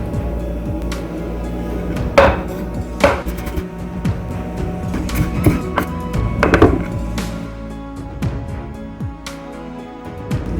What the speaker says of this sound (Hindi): काट रही हूँ गार्निशिंग के लिए